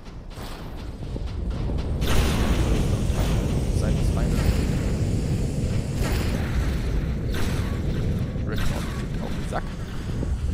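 Rumbling space battle in the Star Ruler 2 strategy game, with a ship exploding in a sustained roar and booming swells beneath someone speaking briefly over the din.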